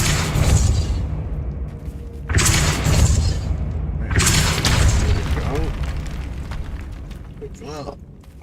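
Depulso spell cast in the Hogwarts Legacy video game: loud booming blasts in three surges, each a rush of broadband force that decays, with a faint swirling magical shimmer near the end.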